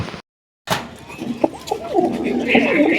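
Pigeons in a loft, soft cooing and bird sounds close by after a brief silent gap, mixed with light background noise and faint voices.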